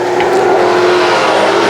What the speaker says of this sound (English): They come racing down the front stretch, score lap number 5 at the line.